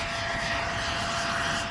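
A steady, loud helicopter drone hums without a break on Wrangel Island, a dense rotor-and-engine roar holding even throughout.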